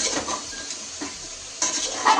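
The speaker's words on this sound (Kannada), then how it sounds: "ಇವಾಗ ಮತ್ತೆ ಎಲ್ಲದನ್ನು ನಾವು ನೀಟಾಗಿ ಮಿಕ್ಸ್ ಮಾಡಿಕೊಂಡು ಅದು ಉಪ್ಪೆಲ್ಲ ಹಿಡಿಯೋ ತನಕ ನಾವು ಚೆನ್ನಾಗಿ ಫ್ರೈ ಮಾಡ್ಕೋಬೇಕು." Goat head curry being stirred and fried in a pot, village style: soft scraping and clinking of a utensil against metal across a couple of seconds, close and fairly quiet, with a brief louder clatter near the end.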